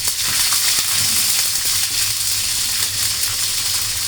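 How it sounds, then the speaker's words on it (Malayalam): Mustard seeds crackle and spit in hot cooking oil, a steady close-up sizzle dotted with small irregular pops throughout, with no voices. "ആ കടുക് ഒന്ന് പൊട്ടുമ്പോഴത്തേക്ക്"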